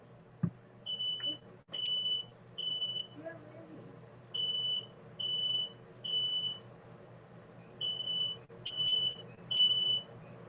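A high electronic beep repeats in short bursts, roughly one per second with brief pauses, over quiet background noise and faint talking.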